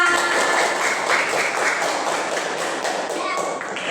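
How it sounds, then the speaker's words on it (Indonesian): A room full of people clapping, a dense steady burst of applause with excited voices mixed in, loud and close throughout. "Tepuk tangan untuk kita semua"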